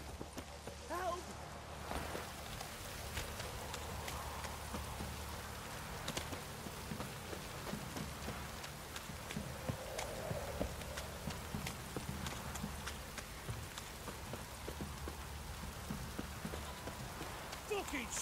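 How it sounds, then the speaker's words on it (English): Heavy downpour in the Witcher 3 video game, a steady dense hiss of rain hitting surfaces throughout, with faint hoof clip-clops and occasional voices beneath. "This downpour's a bastard, it is."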